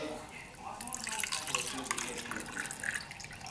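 Liquid being poured into small containers up to a marked line while making homemade yogurt in a kitchen, a soft, trickling, faucet-like splash under a child's and adult's talk.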